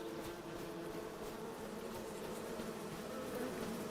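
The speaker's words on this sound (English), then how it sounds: "So now we got our bees doing their thing" Bees buzz in Farming Simulator 25, a steady, even hum of many insects around the hives, continuous and fairly close, with no talking over it.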